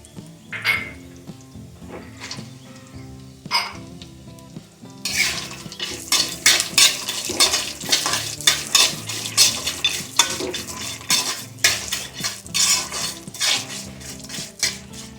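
Cashews fry with ginger and green chilli in hot oil for lemon rice, sizzling loudly while a spoon scrapes and clinks busily against the pan, quieter for the first few seconds then constant stirring close up.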